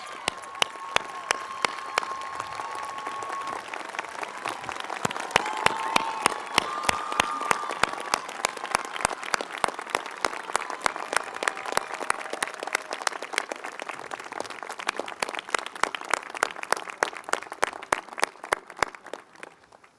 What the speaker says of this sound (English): Please give a warm round of applause to all of our valedictorians.